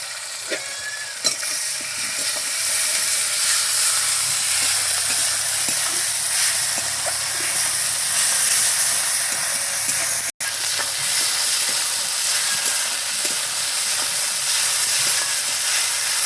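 Ground chili, cumin and ginger-garlic paste fry with browned onions in hot oil, giving a loud, steady sizzle and hiss that runs unbroken except for one brief dropout.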